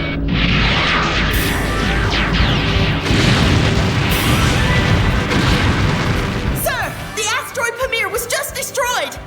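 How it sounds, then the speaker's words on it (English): Ship's guns open fire in an anime space battle, a dense, loud roar of booming blasts and crashing impacts that tails off into scattered bursts and pops, with shouted voices mixed in. "All units fire!"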